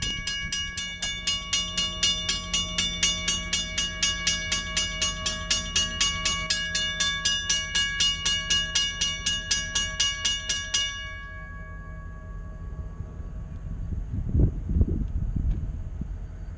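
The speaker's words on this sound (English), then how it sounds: "Next up is just a pair of flashing red lights with a bell on top." A railroad grade crossing signal with a pair of flashing red lights and a bell on top clangs in fast, even strokes, close and loud at the North Carolina Transportation Museum, then cuts off, leaving a soft hum and a brief thump.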